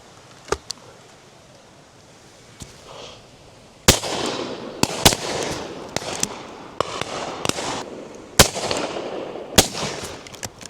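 Shotgun shots ring out at a pheasant and partridge shoot, a dozen or so sharp, loud bangs spaced irregularly, some close and some more distant, over a steady outdoor background.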